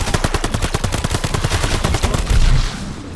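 Rapid bursts of automatic gunfire in Call of Duty Vanguard zombies mode on the Shi No Numa map: loud, evenly spaced shots hammer on, then a heavier blast and a fading tail close the stretch.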